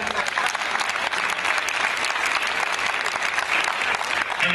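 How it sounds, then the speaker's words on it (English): Sustained audience applause for a college provost at a ceremony, dense and steady throughout with faint voices mixed into the clapping. "let your applause be much louder."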